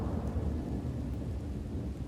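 Thunderstorm in the WildRP roleplay video game: a steady, loud wash of rumbling thunder and heavy rain fills the whole stretch without a break, and no voices are heard.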